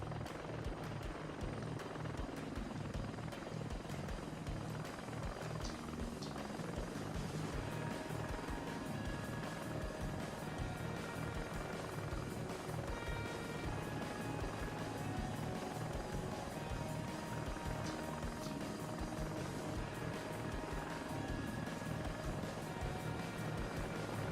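A video-game helicopter comes in to land, its rotor and engine noise a steady, dense, loud drone that holds throughout with no gaps.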